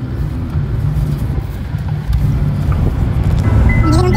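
A vehicle engine runs on a rain-soaked road in Sonale village, a steady low rumble that holds close and loud and swells slightly in its second half, with no talk.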